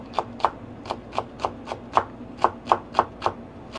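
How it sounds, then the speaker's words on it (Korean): A kitchen knife finely slices five green onions on a cutting board, producing about a dozen crisp, evenly spaced taps in a steady rhythm, close and clear with no talking. "쪽파 다섯 뿌리를 송송송 썰어 줄게요"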